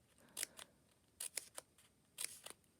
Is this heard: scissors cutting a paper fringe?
yes